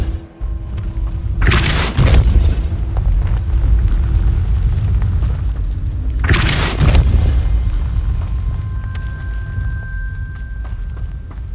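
Two heavy blasts from the Depulso spell in Hogwarts Legacy, each a sudden booming burst about five seconds apart over a low, steady game ambience.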